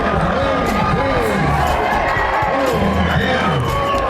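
A large crowd cheers and celebrates with a dense roar of voices and shouts, steady and loud throughout, with individual yells rising above the mass.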